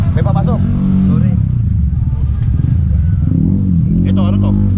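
A motorcycle engine rumbles loud and close on a busy street at a Pasig market, holding a steady throaty drone throughout while people talk nearby.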